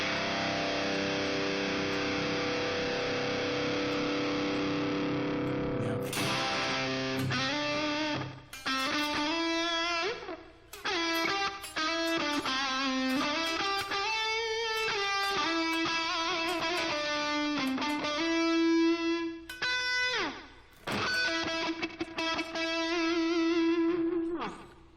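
Electric guitar played through a Gratifier amp simulation in POD Farm, a distorted sustained chord ringing out first, then a run of picked notes and bends with gaps, loud and close.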